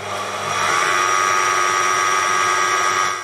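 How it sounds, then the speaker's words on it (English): A Proxxon PD 250/e lathe spins a metal coat-hook part while a rubberized abrasive stick polishes it, giving a loud, close motor whine that swells in the first second, then holds steady with a faint rising tone and no talk. "A rubberized abrasive stick is a really easy way to take a decent machine finish and turn it into a very consistent, semi-polished finish very quickly."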